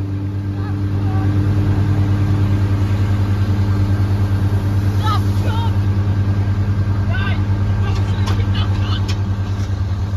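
Speedboats racing on the River Trent, heard from a narrowboat, produce a loud continuous engine drone with a steady low hum and occasional higher whines over the full stretch.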